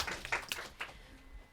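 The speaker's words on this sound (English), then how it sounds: "let's give them a little clap" A primary school class gives a brief round of clapping for pupils, a few scattered light claps from a small group, fairly faint and quickly dying away.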